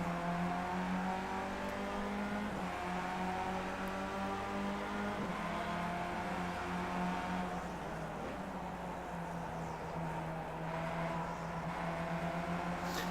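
Race car engine on a road course at VIR Grand West, holding a steady loud drone with rising and falling pitch as the driver lifts and reapplies throttle, continuous and close throughout.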